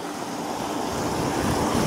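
Hot tub air jets bubbling the water, a dense steady rush of churning bubbles that grows slightly louder, close and continuous with no talking.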